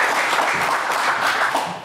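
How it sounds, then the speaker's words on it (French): A short burst of dense studio audience applause on a French game show. It is loud and even, then eases slightly at the end. "on applaudit"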